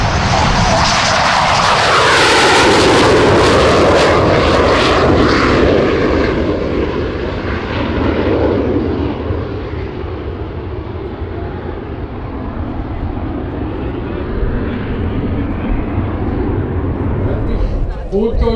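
A Hawker Hunter MK 68 jet roars loudly overhead at an airshow, a broad sustained engine rush that swells early, then settles into a steady fading rumble, with a voice speaking over it.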